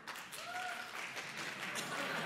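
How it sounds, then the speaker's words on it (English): Faint, steady clapping from an audience at a talk on trust, a soft wash of many hands that carries on evenly for a couple of seconds. "If you trust Facebook the most, clap now."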